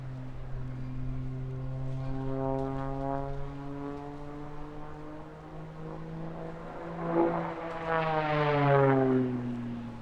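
An aerobatic propeller aircraft performs at the English Riviera Airshow, its engine a steady droning tone that swells louder and shifts pitch as it passes overhead.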